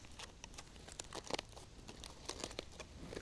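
Two layers of aluminium foil are pulled open around a fully cooked, soft apple: a close run of crinkles and sharp crackles with a few louder tearing bursts, no voices.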